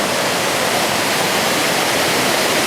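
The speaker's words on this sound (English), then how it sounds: "One waterfall after the next." Powerful, close waterfall on a wilderness creek, its dense hissing roar filling the whole moment at a constant level.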